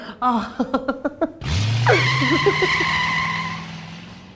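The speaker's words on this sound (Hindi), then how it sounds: "अरे वाह मैडम, स्कूटर भी लौट आया।" A scooter pulls in with a sharp tire skid and a sustained engine whine after several short knocking hits, loud and close, with no talk over it.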